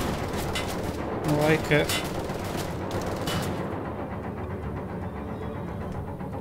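Gunfire in the video game Wolfenstein: The Old Blood, a burst of sharp shots followed by a steady rattle of fire, with someone speaking briefly over it.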